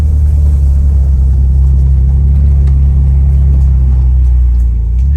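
A Mitsubishi 3000GT VR4 engine runs rough while driving, a loud, steady low rumble with a slightly uneven drone throughout and no voices.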